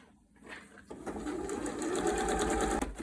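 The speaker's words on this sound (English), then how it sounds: "we are just going to sew at that 1/4 inch around in the circle of our bucket to combine the 2 layers" A sewing machine runs continuously at close range, stitching a quarter-inch seam around the circular base of a fabric Easter basket made from two fat quarters, rising quickly to a steady, even whir after a brief start.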